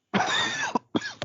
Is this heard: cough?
yes